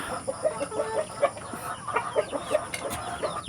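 Chickens on a small provincial egg farm, a mix of native and other breeds, cluck in short soft bursts near and far, scattered through a low background hum with no one speaking.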